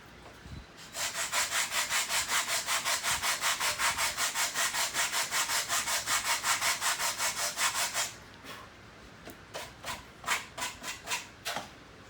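Wood bridge pieces being sanded by hand produce a loud, steady run of rhythmic back-and-forth rubbing strokes, followed by a few slower, irregular strokes.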